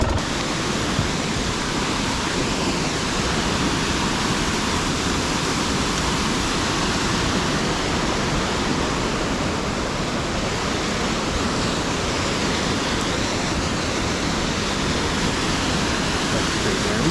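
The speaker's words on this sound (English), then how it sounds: "Crazy, water's literally coming out of the ground." Water gushing out of the ground on a dirt bike trail, a continuous loud broadband rush with no break.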